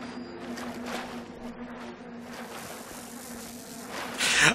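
A bee swarm drones steadily in the Bioshock game's Olympus Heights level, a continuous insect hum with a fainter tone underneath that swells briefly louder at the very end, with no talking.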